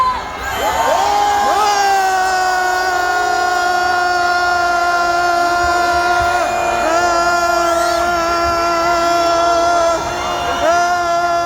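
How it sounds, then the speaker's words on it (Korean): A crowd at a Yeouido rally marching toward the National Assembly lets out a loud, sustained shout and cheer, many voices holding long tones, with a few rising whoops near the start and end. "국회를 향하여 크게 함성 다시 한번 하겠습니다"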